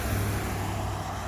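A car passes on a roadside near a mountain trail in the early morning, a steady low rumble of tyres and engine, moderately distant, with no voices.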